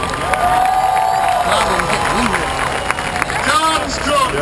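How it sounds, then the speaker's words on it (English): Crowd at a march with NAACP president Ben Jealous applauding and cheering, a dense, steady wash of clapping and voices that stays loud throughout, with scattered shouts and people talking within it. "Please put your hands together for Mr."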